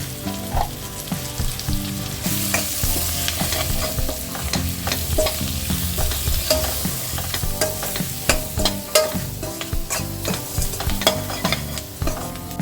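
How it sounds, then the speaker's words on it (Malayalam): Kashmiri chili powder and turmeric stir-fried in hot oil, a continuous loud sizzle under constant close scraping and clinking of a spoon against the pan. "ഇപ്പോൾ ഇട്ട മഞ്ഞൾ പൊടിയുടെയും മുളക് പൊടിയുടെയും പച്ചമണം മാറുന്ന വരെ നമുക്കൊന്ന് റോസ്റ്റ് ചെയ്ത് കൊടുക്കണം."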